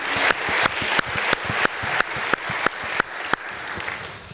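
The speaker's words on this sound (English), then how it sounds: "Let's give Chris Clooney, our wonderful AD, a round of applause." Audience applause at a panel discussion and film screening event, with sharp rhythmic claps rising over a steady crowd wash, loud and close, lasting a few seconds with no talk.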